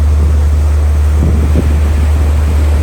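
Water rushes past a boat on the Bosphorus in Istanbul, a loud constant wash mixed with heavy wind buffeting and a steady low engine hum, with no pauses or talk.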